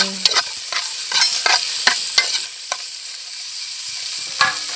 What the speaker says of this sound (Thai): นี่ทอดไปแบบนี้เลย ตุยสุด น้ำมันลาย